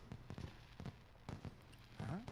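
Fireworks bursting in the video game Danganronpa 2: Goodbye Despair, a string of sharp pops and crackles in quick uneven succession, with a brighter whistling burst near the end, all fairly quiet and without voices.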